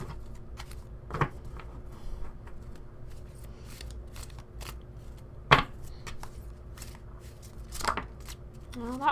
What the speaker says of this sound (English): I'm just going to take a moment to shuffle